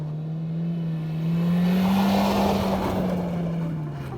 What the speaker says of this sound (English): You can get a bit of a throaty sound from the engine when you're pushing it